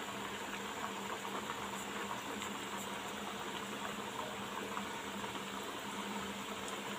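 Hot oil frying French fries in a pan over medium heat, a continuous soft bubbling and sizzling hiss with a faint low hum underneath, no talking.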